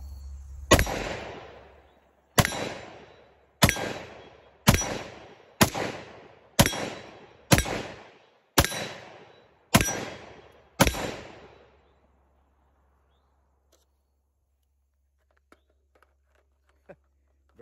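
Nine sharp AR15 rifle shots with a Blackout Defense Zero trigger crack out at a steady pace about a second apart, each loud and close with a short ringing decay, followed by quiet.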